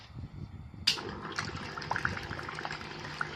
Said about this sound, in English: And then switch on the pump.